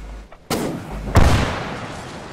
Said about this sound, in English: Yeah, that was an explosion, alright.